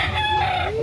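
A gray gamecock crows once nearby at a gamefowl market in Carbon, Cebu City, a long drawn-out call over faint background noise.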